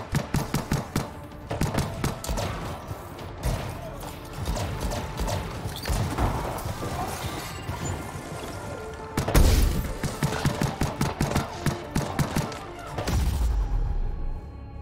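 Rapid gunfire in the game Anthem, bursts of quick repeated shots with mechanical clatter, some bursts dense and rattling, others sparser, steady and fairly loud throughout.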